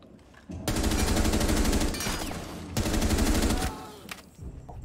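Rapid automatic gunfire in the video game Rainbow Six Siege, two loud sustained bursts of fast, evenly spaced shots separated by a brief pause, close and dominant with no talk over it.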